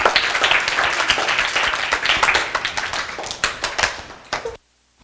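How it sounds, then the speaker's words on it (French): Audience applause at a children's Christmas dinner, a dense burst of many hands clapping close by that carries on for about four and a half seconds and then stops abruptly into near silence. "Encore une fois, on applaudit."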